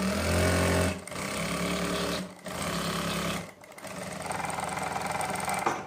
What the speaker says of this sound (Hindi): सबसे पहले हम आसन की सिलाई लगा लेते हैं।